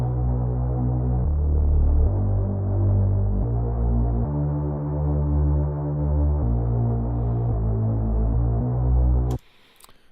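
A deep synthesized sub bass made in Bitwig 2 plays a sustained line of shifting low notes, droning steadily, then stops abruptly near the end.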